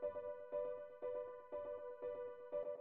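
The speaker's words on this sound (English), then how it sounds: "And then after that, I have this echo." Soft electronic piano notes in a Kiasmos-like style with a 16th-note echo repeating each tone in a rapid pulsing pattern, quiet and delicate, a sustained pitch recurring roughly every half second with no talk.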